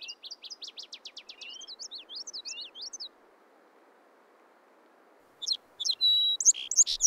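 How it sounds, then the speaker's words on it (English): Song sparrows near a marsh deliver rapid trills and chirping phrases in two bursts separated by a quiet pause, clear and fairly close over a low steady background hum. "A pair of song sparrows are nesting on the ground somewhere around the marsh."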